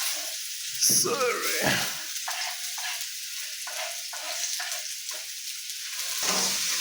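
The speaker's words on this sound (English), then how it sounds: "I'm adding the onions. Adding your onions." Onions going into hot oil in a pan, giving a steady sizzle and crackle with bursts of stirring and a louder surge near the end, while people talk briefly over it.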